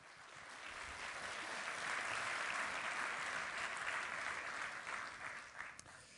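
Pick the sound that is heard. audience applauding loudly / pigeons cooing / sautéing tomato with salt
audience applauding loudly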